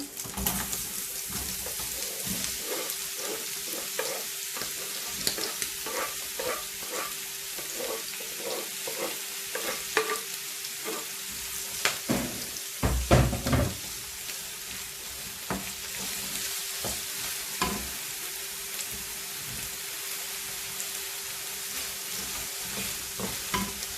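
Onion stirred into browned meat in a pan, frying with a continuous sizzle and repeated scraping stir strokes, close up, while pigeons coo faintly in the background.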